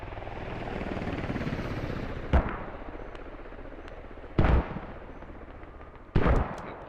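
Mortar rounds fire in the military video game Squad as three heavy, sharp booms spaced about two seconds apart. They cut through a steady, droning engine-like rumble that runs throughout.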